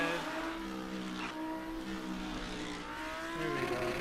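A car engine in the No Hesi driving game drops a gear, its pitch falling and rising in smooth sweeps, revving steadily at moderate volume without any voice over it.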